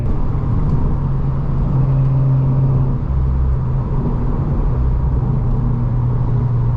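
A Mazda RX8 rotary engine drives a winding mountain road, giving a steady, loud in-cabin drone with sustained low rumble and shifting engine tones throughout.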